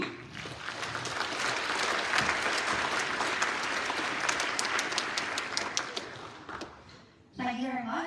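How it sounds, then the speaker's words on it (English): A lecture audience applauds a speaker being introduced for a mathematics talk, with dense, sustained clapping that fades out near the end before a voice begins speaking. "please give a big round of applause for Caoimhe Rooney"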